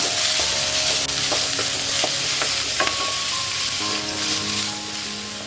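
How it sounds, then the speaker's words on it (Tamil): Onions sizzle steadily as they brown in a hot pan for a goat leg curry, with a few soft scrapes and knocks of stirring. "இப்போ நம்ம நல்லா ஒரு ப்ரௌன் கலரில் வரைக்கும் நம்ம நல்லா வெங்காயத்தை வதக்கலாம்."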